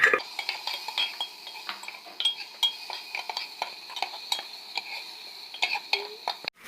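A spoon stirs turmeric and red chili powder into a chickpea vegetable biryani in a pot, with repeated close metallic scrapes and clinks against the pan in an irregular rhythm over a faint sizzle.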